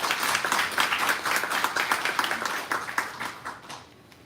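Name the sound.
audience applause congratulating Namibia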